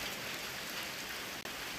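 Soft, steady rain hiss, fairly faint and even, with a brief dropout near the end.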